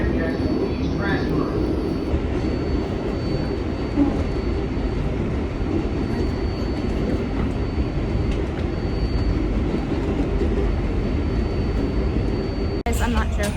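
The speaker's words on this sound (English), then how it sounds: "I went on the train and it skipped like 5 stops." A New York subway express train rides along steadily, a constant loud rumble and rattle of the carriage heard from inside, with a brief clunk near the end.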